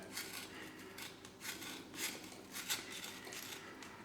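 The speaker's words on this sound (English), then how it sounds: "now I'm going to cut the actual plaster again using the Stanley knife" Stanley knife scoring and scraping through wall plaster while fitting an electrical back box, a series of short rasping strokes, close and fairly quiet, with no talk.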